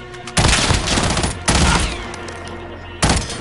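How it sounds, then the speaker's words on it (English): Gunfire in a Call of Duty Warzone firefight, with loud bursts of automatic fire opening at about 0.4 s, again near 1.5 s and once more near 3 s, each followed by a ringing, decaying tail. "I'm shooting it out. It's two people."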